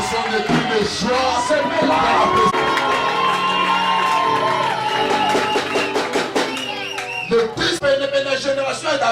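A church congregation at a La Bonne Semence gathering in Antwerp shouts and cheers for joy, a loud, continuous crowd roar with whoops and voices layered over music throughout.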